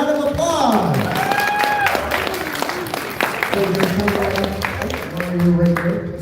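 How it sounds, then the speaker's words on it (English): Applause for a prize winner at an anime convention model kit competition, a dense clapping crowd in a hall mixed with voices and tonal sounds, continuous throughout. "give her a round of applause"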